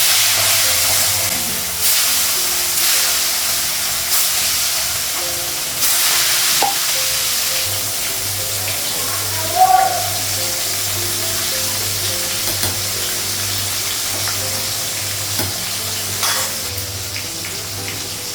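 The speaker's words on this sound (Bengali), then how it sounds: "কড়াইয়ের মধ্যে হলুদটা লাগাবো, তো মাছটা লাগিয়ে দেবো।" Loud, steady sizzling of rohu fish frying in hot oil in a wok with a continuous hiss, punctuated by a few brief clinks of a utensil against the pan.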